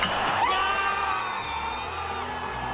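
Hockey arena fans roar and whoop after the Canadiens score. A loud crowd swell with a rising whistle or yell peaks early, then eases to a sustained mass cheer.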